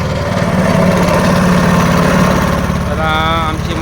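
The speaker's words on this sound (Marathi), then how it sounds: "चला आमची मोटर चाललेली आहे." A boat's outboard motor runs steadily on a dam reservoir, a loud, close, continuous droning putter with no breaks.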